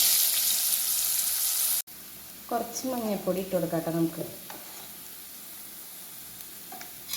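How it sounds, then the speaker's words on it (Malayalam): Onions frying in oil in a pan give a steady hiss throughout, loud at first and then quieter after a brief cut, while someone talks over it partway through. "നമുക്കൊരു പാനിലേക്ക് കുറച്ച് ഓയിൽ ഒഴിച്ചു കൊടുക്കാം കേട്ടോ പിന്നെ കുറച്ച് സബോള ഇട്ട് കൊടുക്കാം"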